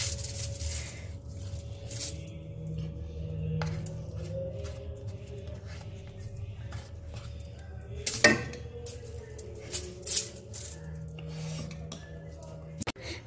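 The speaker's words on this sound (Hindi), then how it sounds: "पहले हम इसको स्पैटुला की हेल्प से फैला लेंगे, अच्छे से चारों तरफ इसको सेट कर लेंगे" A spatula spreads a hot jaggery and peanut chikki mixture across a plate with soft scraping and occasional metallic clinks close up, under a low steady background hum.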